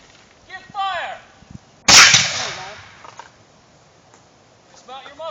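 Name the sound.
matchlock musket being fired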